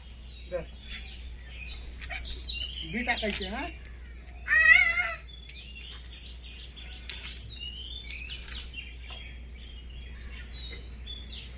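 Small birds chirp and tweet repeatedly in the background while a child babbles briefly, over a low steady hum.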